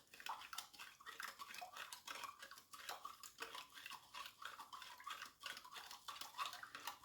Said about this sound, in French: Donc on dissout le sucre, le sel dans l'eau